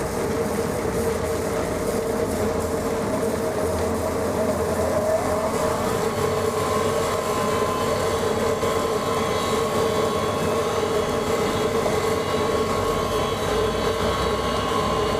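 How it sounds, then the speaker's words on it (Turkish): An ADELSAN FIRTINA stone cutting machine, a mountain quarry cutter, starts up and runs with a loud, steady mechanical drone and rumble that holds constant throughout, with no talk over it. "Makinemiz kalktı, çalışıyor arkadaşlar."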